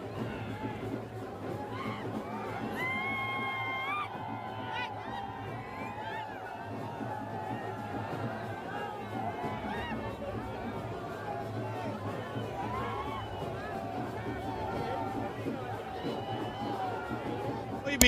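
A large crowd at Prashant Kishor's outdoor election rally in Bihar, in the rain, with a steady murmur of chatter and hubbub that runs throughout at moderate distance.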